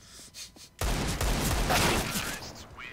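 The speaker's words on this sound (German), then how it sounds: "Ja, man kann da drauf schießen." Gunfire shooting through wood in Counter-Strike: Global Offensive on the Vertigo map. Quiet shots come first, then a loud sustained burst of rapid fire breaks in and keeps going, with brief game sounds at the end.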